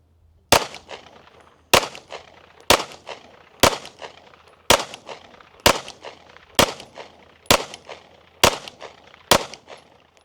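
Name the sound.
EAA Girsan MC9 Disruptor pistol firing a group of shots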